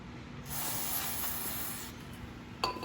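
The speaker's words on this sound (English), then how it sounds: "Now we want to spray it off again." Spray cleaner hisses steadily onto a leaking carburetor from a 2009 Craftsman self-propelled lawnmower during a rebuild, one sustained close burst of about two seconds, then a brief sharper spurt.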